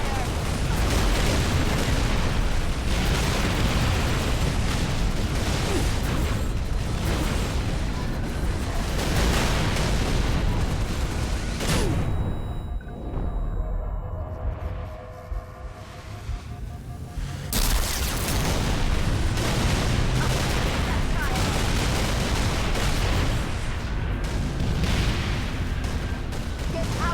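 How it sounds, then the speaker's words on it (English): In the game Halo: Reach, a sustained barrage of gunfire and explosions roars loud and dense, cutting off abruptly for a few seconds mid-clip before the heavy firing and booms resume, with shouted voices mixed into the chaos. "I'm under fire!"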